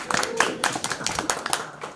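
Scattered clapping from a small gathering at a veterans farm program event, a few sparse, uneven hand claps close by over about two seconds.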